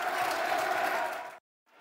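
Football crowd at Millwall applauding a substituted player, a dense sustained wash of clapping and murmur from a large stadium audience that cuts off abruptly near the end.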